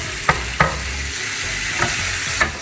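A red chili mix with chicken stock and dark soy sauce bubbles in a pan with a loud, dense sizzle, while four distinct scraping strokes of a spoon stirring the sauce stand out up close.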